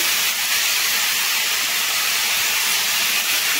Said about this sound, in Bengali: এবার আদা বাটাটা দিয়ে দেবো,